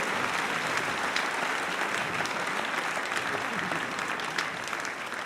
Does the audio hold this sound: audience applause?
yes